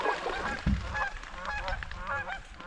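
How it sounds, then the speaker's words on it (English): A bunch of geese honk repeatedly in a scattered, overlapping chorus at moderate distance, with one low thump partway through. "Bunch of geese."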